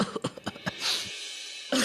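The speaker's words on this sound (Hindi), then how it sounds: "हो गई ना खांसी?" A man gives a burst of several rapid, harsh coughs in quick succession, then a short throaty rasp, followed by a pause and a further sound right at the end.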